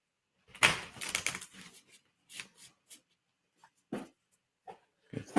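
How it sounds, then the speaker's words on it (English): A tarot deck is shuffled by hand in short bursts of riffling and card slaps, close up and intermittent with pauses between. "Give this a good shuffle."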